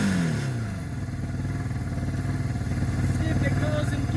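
A barn-find Kawasaki KZ550 LTD motorcycle engine revs up and settles into a steady, loud, close-up idle with an even pulsing beat throughout.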